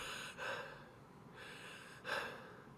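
A voice imitates heavy mouth breathing, with two loud, breathy inhales and a softer exhale between them, close and clear.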